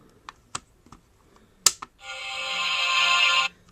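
Power-on sound from a Kamen Rider Ryuki Legend Series toy transformation belt: a few short clicks and a sharp chime, then a loud, sustained bright electronic tone lasting about a second and a half, heard alone.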